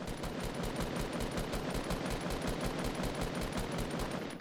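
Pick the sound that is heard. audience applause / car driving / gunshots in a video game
gunshots in a video game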